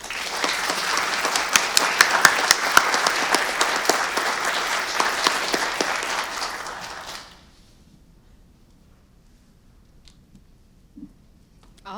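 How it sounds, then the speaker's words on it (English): An audience applauds student debaters at a university debate event with loud, close, dense clapping that holds for about seven seconds, then stops abruptly into near silence with a few faint noises. "let's give another round of applause for our students, please."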